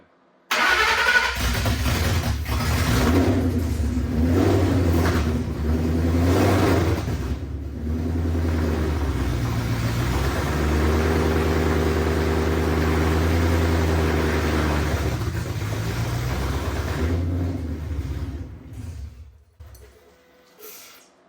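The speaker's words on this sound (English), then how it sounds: "That is a motor when it's running." A Ford Coyote V8 swapped into a car cranks and catches, then idles with a deep, loud rumble and a couple of blips in pitch before settling and shutting down.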